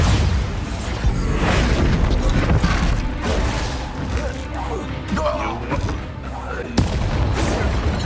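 Explosive Bombarda blasting spell in the video game Hogwarts Legacy, heavy booming and crashing rumble that fills the scene, with a voice talking over it.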